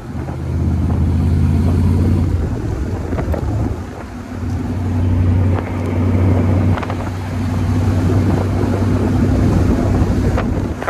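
A 1965 Shelby Cobra replica cruising in fifth gear, a steady low engine drone under heavy wind buffeting that dips briefly partway through, loud and close with no talking.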